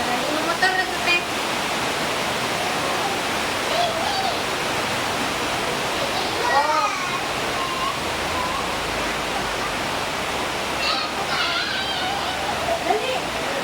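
Heavy rain pouring down in a dense, steady roar, a continuous close hiss of downpour with faint voices and occasional brief sounds rising through it.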